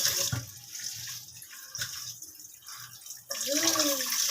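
Uncooked rice gets its second rinse in water, with soft sloshing and trickling swirls at moderate volume, followed by a brighter splashing pour near the end.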